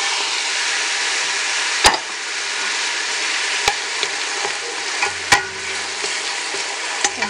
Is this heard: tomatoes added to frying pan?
yes